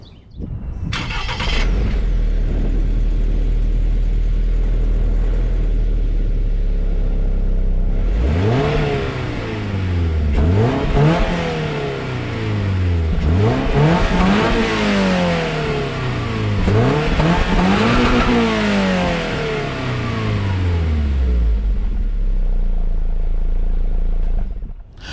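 A 2022 Toyota GR86's 2.4-liter naturally aspirated flat-four idles with a throaty burble, then revs repeatedly in rising and falling surges with a rough exhaust note before settling back to idle.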